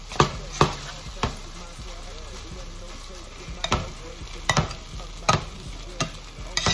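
Tater tots and eggs sizzle in a pan on a stovetop, a soft steady frying hiss broken by several sharp clacks of a utensil stirring and scraping against the pan.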